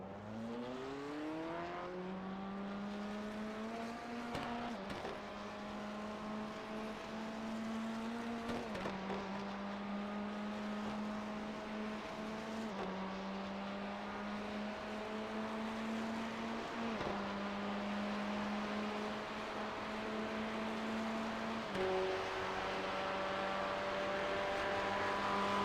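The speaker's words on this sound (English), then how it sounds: "It's a Chevy GTE." Chevy GTE race car engine in the iRacing simulator, loud and steady, rising in pitch through each gear then dropping sharply at regular shifts, repeated about six times with no talk.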